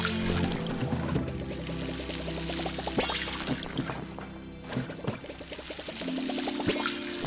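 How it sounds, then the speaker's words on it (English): Watering crops in the farming video game Palia: a continuous splashing pour of water with clinking and tapping game effects layered over steady background music, moderately loud throughout. "we'll water the crops."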